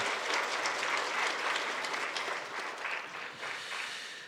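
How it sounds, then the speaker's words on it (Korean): Congregation applauding during a Korean church dedication thanksgiving service, steady full-room clapping that holds for several seconds, then tapers slightly. "우리 하나님께 감사와 영광의 박수로 돌려드립니다"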